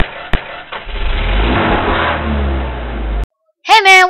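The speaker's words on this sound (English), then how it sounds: "Now you want to make sure they don't hear the engine." A toy car engine in a Lego stop-motion scene revs up loudly for a few seconds then cuts off abruptly, followed by a brief voice.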